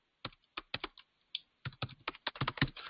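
Someone types an email address on a computer keyboard: quiet, close key clicks come in an uneven run of taps that speeds into a denser flurry toward the end.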